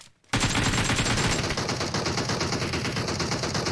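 Dense, sustained automatic gunfire in PUBG Mobile bursts in after a brief quiet moment, loud and close with rapid continuous shots and no talk over it.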